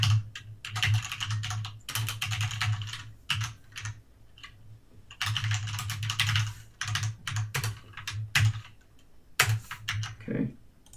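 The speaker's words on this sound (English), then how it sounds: "So I'm gonna just type it again" Steady computer keyboard typing while writing Java code, rapid clattering keystrokes in several runs separated by brief pauses, close and clear, no talking.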